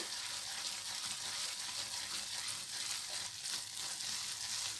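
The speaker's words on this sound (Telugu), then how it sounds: "ఒకసారి హైలో పెట్టేసుకొని ఇలాగ మొత్తం తిప్పేసుకోవాలి కలుపుతూనే ఉండాలి" A milk and coconut barfi mixture stirred continuously in a pan on high heat, giving a steady, faint, bubbling hiss with soft scraping throughout and no voices.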